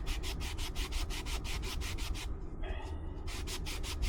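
Baked-on brake dust is scrubbed off an aluminum wheel by hand, giving a rapid, regular back-and-forth rubbing, loud and close, that pauses briefly midway before resuming.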